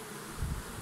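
A swarm of wild honeybees is shaken out of a frame into a hive in August, giving a dense, close buzzing hum for under a second.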